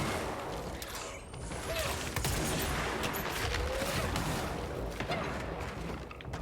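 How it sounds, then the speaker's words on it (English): Enemy gunfire in the game Control crackles in rapid, continuous bursts close by, steady and loud throughout with no pauses. "Somebody is shooting at me."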